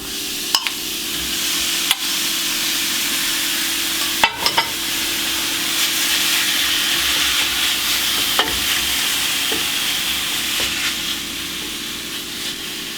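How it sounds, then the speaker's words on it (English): Pork cooking in a hot pan with no added oil, rendering in its own fat, makes a loud, continuous sizzle, with a few sharp scrapes and knocks from stirring. "So we're gonna heat our pan and start cooking the pork."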